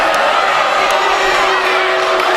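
Basketball crowd at a high school game loudly protesting a bad call, a dense steady roar of boos, shouts and whoops filling the gym without break.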